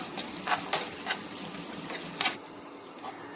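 Grated coconut and carrots sauté in a hot pan, with a steady soft sizzle broken by occasional scraping stirs of a spoon, close and moderately loud with no voices.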